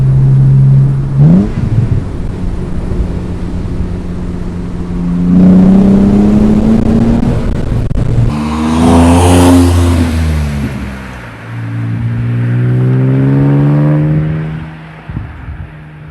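A 2013 Morgan Roadster Sport with a 3.7-litre engine revs hard and loud, its pitch climbing through repeated acceleration pulls with brief lifts between them, alone with no talk.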